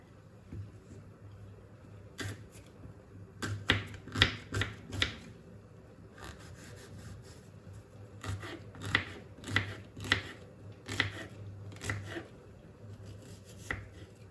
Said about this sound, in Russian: Вот так вот нарежем кубиками.